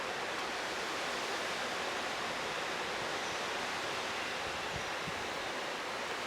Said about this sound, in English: Why is there a gust of wind here?